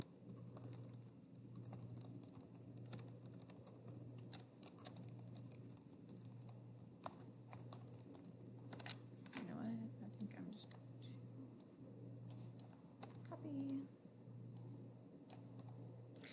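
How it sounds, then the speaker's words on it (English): Keys clatter steadily on a computer keyboard while a web page is being built, a busy run of soft clicks under a constant low hum, with faint voice-like sounds in places. "then you'll just type in your specifics"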